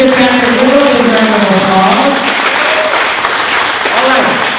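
Applause from the crowd at a Corvette Dream Giveaway award ceremony, a steady loud wash of clapping running throughout, with a voice speaking over it.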